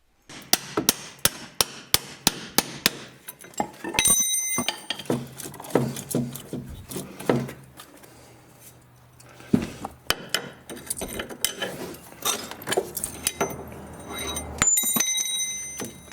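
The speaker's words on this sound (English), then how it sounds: "if all else fails, we'll use a punch, and this will pound it right out of the hole" A punch struck repeatedly with a hammer to drive a front strut bolt out of a 2007 Chevy Equinox, sharp metallic blows in a quick series, then scattered louder hits and scraping.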